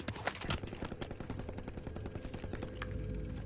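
Automatic weapon fire in a Call of Duty match: rapid, loud bursts of shots in quick succession, close and continuous, with a heavier rumbling tail near the end.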